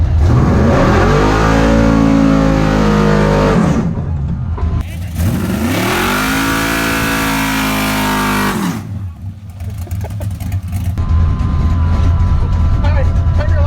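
A drag racing car launches hard down the drag strip, its engine roaring loud and close through rising revs and gear changes, then dropping away as it pulls off into the distance.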